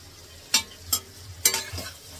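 Paneer being dry-roasted in a pan with no oil or ghee for pulao, heard as a few short scrapes and stirring knocks over a low background hum.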